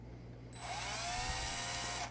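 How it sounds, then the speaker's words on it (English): A power drill with a 3.5 millimeter bit bores a dummy headphone-jack port into an iPhone 7, starting abruptly after a moment of quiet and then whining steadily at a high pitch, close and loud, until the end. "So all you do is just drill."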